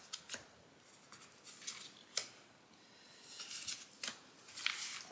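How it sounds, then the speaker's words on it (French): Cards are drawn from a deck and laid out, with faint, sharp papery snaps and slides scattered irregularly in a quiet room. "Donc on va tirer, hop, 3 cartes au hasard."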